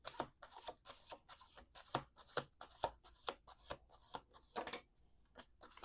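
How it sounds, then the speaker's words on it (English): Tarot cards are shuffled by hand in a quiet room, a rapid series of crisp riffling and slapping bursts repeating close up, with no talking. "Let's do 2 more shuffles."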